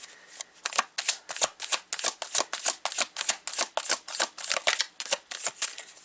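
Tarot cards being shuffled by hand in a quick run of crisp riffling flutters, about twenty bursts in steady rhythm, close and fairly loud with no talking.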